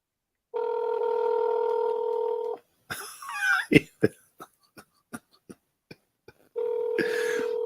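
A phone dials out with a steady dial tone, then a run of about ten brief, evenly spaced keypad beeps, and the tone returns at the end. A short throat-clear or cough breaks in near the start of the dialing.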